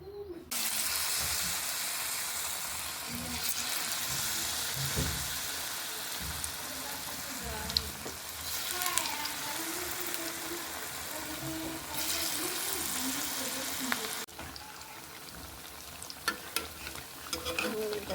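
Potato chops (aloo chop) fry in hot oil in a home kitchen, giving a steady, dense sizzle throughout, with occasional soft bubbling pops and brief clinks near the start and end.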